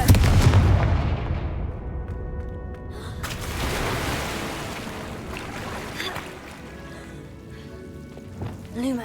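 A Confringo blast spell in Hogwarts Legacy, one loud booming explosion at the outset fading into a long rumbling, crackling tail, with a second softer burst a few seconds later.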